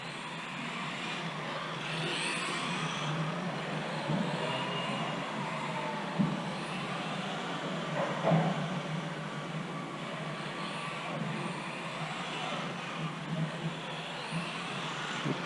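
A Tamiya TT-02SW RC touring car whirs continuously as it drives around a track and through corners, with a steady electric motor and tire hiss, fairly faint, and small bumps along the way.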